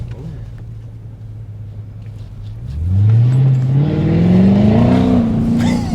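A naturally aspirated V8 in a Mercedes CLK 500 idles low, then revs hard and climbs steadily in pitch, loud and close, holding a strong rising roar to the end.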